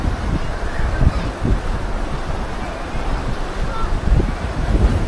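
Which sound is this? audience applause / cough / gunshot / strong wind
strong wind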